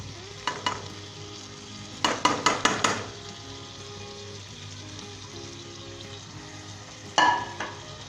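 Spiced beef pulao mixed with a spoon in a pan, giving sharp clustered scraping knocks against the metal in bursts over a steady low hum, with no talking.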